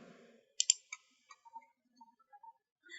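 Sharp mouse clicks in a quiet room, a few crisp taps close together followed by lighter scattered ticks, close and isolated with no voice.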